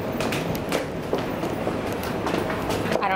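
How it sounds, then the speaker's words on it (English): A New York City subway 2 train on the move, with a steady rumble, rattling and clacking under faint background noise, heard from inside the car. "This is my favorite train."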